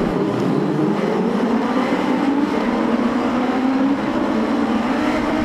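Racing motorcycles in a restarted six-lap superbike-style race roar together off the start, a dense, steady engine drone with a rising pitch sweep as the pack accelerates away, loud and continuous throughout.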